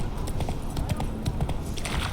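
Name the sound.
horse hooves galloping, from the video game The Witcher 3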